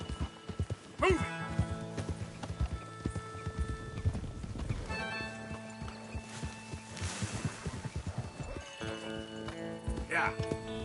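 Horses in a video game trot with a rhythmic clip-clop of hooves, joined by an occasional whinny and creaking movement, while a man urges them along over the sounds.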